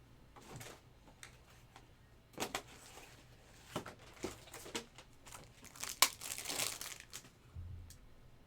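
Paper envelopes and cardboard boxes from a sports card box break being put away, with soft, scattered crinkling, rustling and small knocks up close, quiet and irregular.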